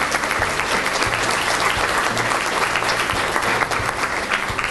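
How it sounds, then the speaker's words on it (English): Sustained applause from a crowd of children at a DARE school ceremony, dense and steady clapping that holds at an even level throughout. "Kids, let's give yourselves one more big round of applause."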